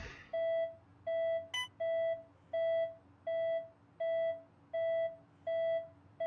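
A chemotherapy infusion pump in the video game That Dragon, Cancer beeps steadily, about ten evenly spaced, moderately loud electronic tones in a regular rhythm, with a brief click partway through and no voices.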